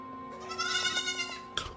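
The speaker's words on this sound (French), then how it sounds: "j'ai pris une chèvre pour un enfant" A goat bleats in a scene from the TV series Severance: one drawn-out, wavering bleat at moderate loudness, followed by a brief sharp noise at the end, with no talk over it.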